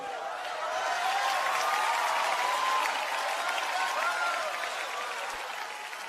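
Sustained applause from a church congregation during a sermon, steady and fairly loud throughout, with a faint tonal sound running underneath.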